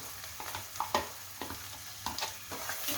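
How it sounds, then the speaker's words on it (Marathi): Ground masala paste sautéing in a pan for a Marathi drumstick curry, a steady close sizzle with soft stirring scrapes and a few sharper spatula knocks, no voices. "आपण थोडंसं परतून घेऊया।"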